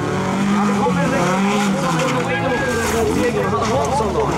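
Stock car crash during a race in Sweden, with loud continuous engine roar and tire noise throughout, commentators talking excitedly over it.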